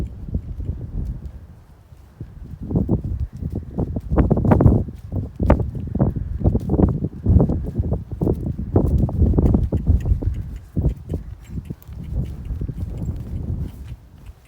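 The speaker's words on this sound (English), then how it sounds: "this is to get the horse to trot on the spot" Horse trotting in place in an arena, its hooves clip-clopping in a steady, rapid rhythm close by, with rustling and soft movement noise throughout and no talk.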